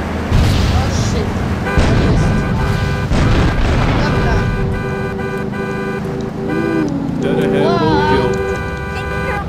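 Rocket launcher explosions in GTA 3 with a realism mod. Several heavy booming blasts sit within busy game sound, alongside horn-like tones, whistling effects and a low hum.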